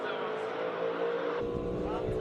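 A 1965 Shelby Daytona Coupe with a 5.7-liter V8 roars loudly and steadily at a classic car speed event in Cape Town, the engine note shifting to a rougher, lower rumble partway through.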